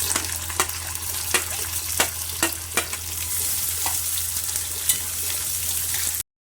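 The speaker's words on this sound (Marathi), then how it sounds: "तेल तापलेलं आहे त्याच्यामध्ये आता कांदा भाजायला घालते" Onion frying in hot oil in a pan, giving a loud, close, continuous sizzle with a few sharp scrapes or taps of a spatula spaced through it and no voices.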